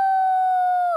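A cartoon character in Peppa Pig imitates a wolf howl with one steady, loud, sustained tonal note lasting about a second, then trailing off abruptly at the end.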